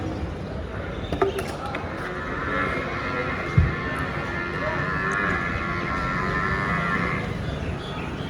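Buffaloes at a large-animal livestock market, with a low moo rising and holding for several seconds amid the steady hubbub of a crowded outdoor yard and a brief thump.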